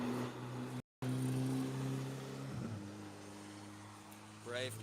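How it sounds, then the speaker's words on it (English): Ferrari race cars on a track, a steady engine drone with harmonic tones that shifts pitch midway as a car passes, with a brief dropout and a rising rev near the end; voices murmur faintly beneath. "There's a lot of Ferraris on track today."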